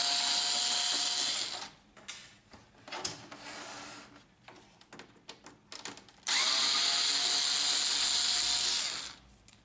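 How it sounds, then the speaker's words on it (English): A power screwdriver backs screws out of the back of a printer. Two loud, steady whirring bursts are separated by a few seconds of scattered clicks and handling clatter. "Remove the 2 screws on the back of the printer."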